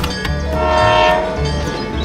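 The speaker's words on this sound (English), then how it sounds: "The train continues its journey." A small DIY model train rolls along its track while its horn sounds in a sustained, bright tone, loud and close over the rattling run, with no talking.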